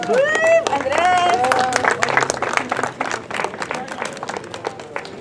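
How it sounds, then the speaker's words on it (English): A dedication-ceremony audience at a resource center's grand opening breaks into sustained clapping and cheering, loud and close, with a voice speaking over the start before the applause gradually thins. "Can we get a round of applause for all of them?"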